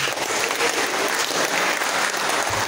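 Applause from an audience in a room at a university law faculty student leadership training, steady and dense clapping throughout at moderate loudness, with no talk over it.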